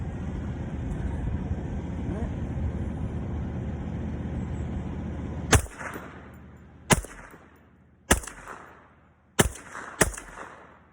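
Winchester Model 1907 semi-automatic rifle fires five sharp, loud shots at irregular intervals after a stretch of steady outdoor rumble, each report decaying quickly, with pauses between shots where the action jams.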